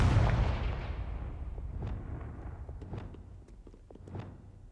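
A Confringo fire spell blasts in Hogwarts Legacy, a loud burst at the start that fades into a rumbling tail, followed by a few softer thuds and crackles.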